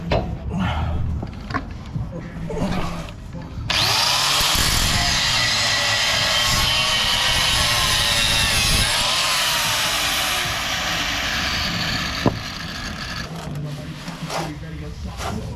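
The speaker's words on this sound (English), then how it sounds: "What I'm going to do is cut this off and just flappy that down till it's wafer thin" Angle grinder fitted with a flap disc cutting and grinding metal on a Suzuki Jimny differential in a workshop, a loud steady broadband whine running close for about nine seconds, with handling noise before and after.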